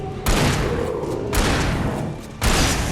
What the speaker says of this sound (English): it takes one more shot to kill them that way